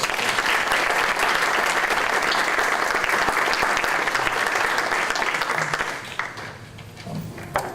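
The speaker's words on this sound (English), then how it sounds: "So can we please give all of them a round of applause?" Audience applause at a school board meeting for staff honorees, a loud continuous round of clapping lasting about six seconds, then tapering off into quieter room noise.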